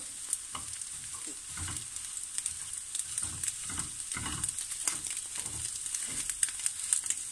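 An egg frying in a pan gives off a constant faint, crackly sizzle with tiny pops throughout, close by and uninterrupted, with no voices.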